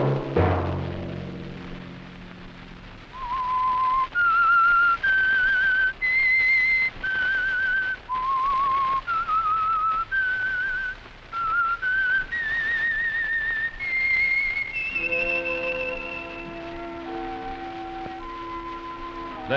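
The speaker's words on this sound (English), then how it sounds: "Let that whistle be your signal for the Signal Oil program, The Whistler" A lone whistler performs the eerie theme tune of The Whistler radio show, a slow melody of clear sustained notes rising and falling. A short orchestral sting opens it and another closes it.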